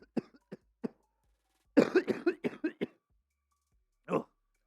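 A series of sharp coughs, a few isolated ones followed by a rapid burst of several, then one more cough after a pause, near and clear.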